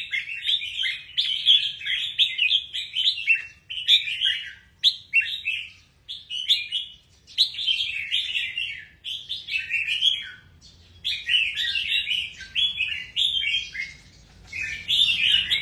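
Thai baby birds chirp continuously in a rapid, high-pitched chorus, the bursts close and loud with only brief gaps between them.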